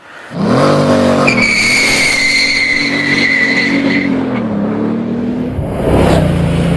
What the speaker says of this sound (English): I just let rip in it for the first time then in a straight line and just kept my foot down